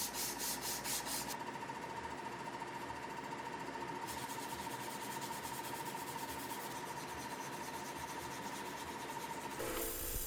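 Knife handle scales for a leaf-spring survival knife being sanded, a continuous rough rubbing and grinding hum with a steady machine tone, loud and close, and no talk.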